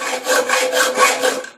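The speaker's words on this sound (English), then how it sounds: "I'm sawing downwards because the stool gives me more support for the bracket" A hand saw cuts through a metal bracket clamped to a small step stool, producing rhythmic rasping strokes, about four back-and-forth pulls, loud and close with a gritty scraping tone.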